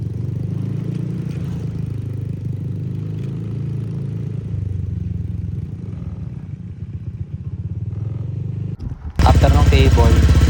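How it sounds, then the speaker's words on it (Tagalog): A Honda Airblade 150 scooter engine, just back together after a throttle body cleaning, runs at a steady low idle hum, then abruptly jumps to a much louder, harsher roar near the end. "in-start ko yung motor, connect ko"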